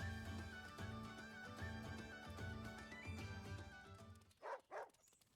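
Dogs in the game Wargroove bark twice, short and close, right after a stretch of game music.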